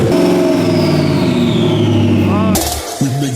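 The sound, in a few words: turbocharged Ford Crown Victoria engine revving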